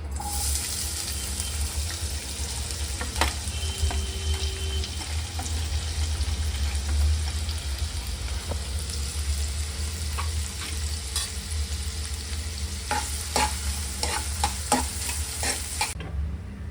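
Onion fries in hot oil with bay leaf, cardamom and cloves for a black pepper chicken, giving a steady close sizzle, with occasional clinks and scrapes from stirring throughout.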